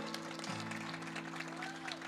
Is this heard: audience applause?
yes